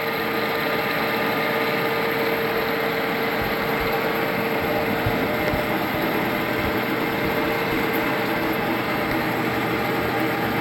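Metal lathe feeding a cut at 460 RPM and half a thousandth per revolution in a home garage shop, a steady, continuous mechanical drone and hum with no pauses and no one talking.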